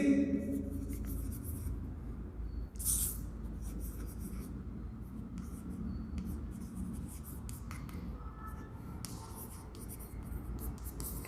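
Chalk or marker scratching across a board as a maths coefficient is written, a continuous rubbing stroke sound close by, with a brief sharper squeak partway through.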